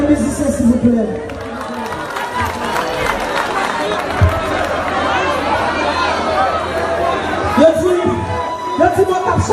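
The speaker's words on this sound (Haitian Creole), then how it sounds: "Je vous demande d'applaudir mes musiciens, s'il vous plaît." A festival crowd at the Manno Beats festival in Cap-Haïtien cheers and applauds the musicians. The roar is dense and continuous, with a mix of shouts, clapping and chatter.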